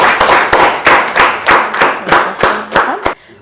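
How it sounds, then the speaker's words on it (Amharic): Audience hands clapping at an Ethiopian gathering, a steady run of about ten loud, evenly spaced claps over three seconds that stops abruptly. "አረ እንደው አጨብጭቡልኝ አንዴ እስኪ በመድኃኒዓለም"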